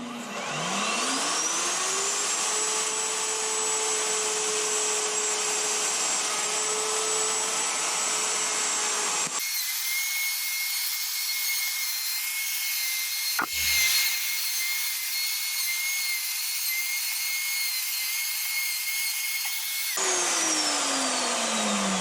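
A router on a router sled whines at a steady high pitch as it takes a fine layer off wood, spinning up at the start and winding down at the end, loud and continuous.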